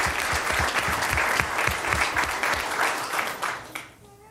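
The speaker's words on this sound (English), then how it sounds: "let's give her a round of applause." Applause from the audience at a school district governing board meeting, a dense, steady roar of many hands clapping for several seconds before it tapers off near the end.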